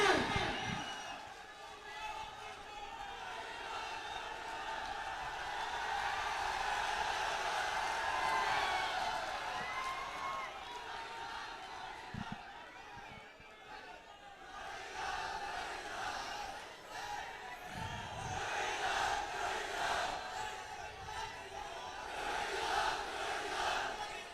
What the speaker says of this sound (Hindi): जोरदार तालियों के साथ डॉक्टर किरोड़ी लाल